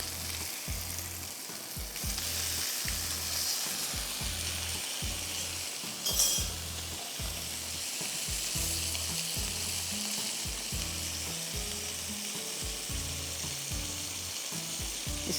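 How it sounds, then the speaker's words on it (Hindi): Onions and mushrooms sizzle on a grill pan in a kitchen, a steady close frying crackle with rhythmic stirring or scraping knocks and an occasional clink of a utensil. "इसको मैं ग्रिल करूँगी और साथ में मैं मशरूम्स डालूँगी"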